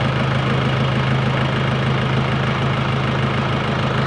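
A Nissan Navara engine idles smoothly and loudly up close, a steady, even rumble with a low hum that holds unchanged throughout.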